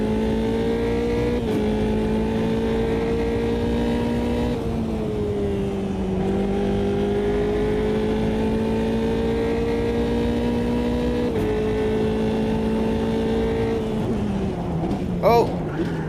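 Race car engine in the sim racing game Automobilista 2, a loud continuous drone whose pitch climbs through the gears, dropping briefly at each shift, with faint talk underneath.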